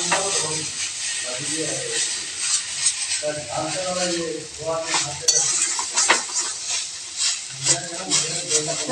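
Food fries in oil with soy sauce in a pan, a continuous close sizzle broken by repeated scraping and stirring strokes of a utensil, with a voice speaking over it.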